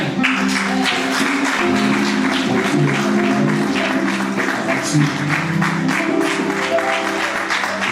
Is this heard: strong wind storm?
no